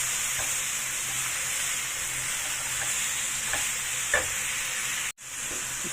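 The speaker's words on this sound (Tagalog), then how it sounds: "Halo-haluin lang natin yan guys para hindi masunog." Ground pork fries in a pan while being stirred, with a loud, steady sizzle and hiss throughout and occasional soft scrapes of the utensil, close to the listener.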